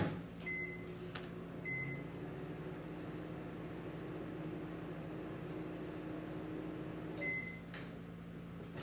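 A microwave oven hums steadily while heating marshmallows for fondant, with a few short electronic beeps near the start and again near the end, fairly close and alone.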